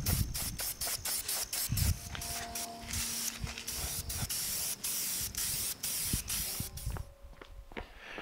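Rust-Oleum primer sprays onto metal awning posts in a run of short, sharp aerosol hisses with brief pauses between them, close by and steady, alongside faint mechanical clicks.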